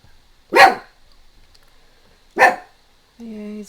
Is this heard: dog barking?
yes